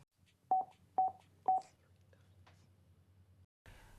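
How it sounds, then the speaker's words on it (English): Three short, evenly spaced beeps sound from a Cardo FREECOM 2 motorcycle intercom as speed dial is activated, followed by a faint softer tone and low hum. "tap the phone button 3 times to activate your speed dial."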